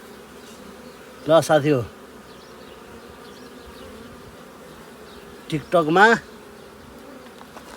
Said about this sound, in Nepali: मैले मौरी चाहिँ कटाउँदैछु। ल हेर्न सक्नुहुन्छ।